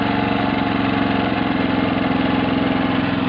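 A branch shredder runs at lowered speed for shredding corn stalks, a steady loud mid-pitched engine drone with a fine rapid pulsing throughout, close and uninterrupted, no talk.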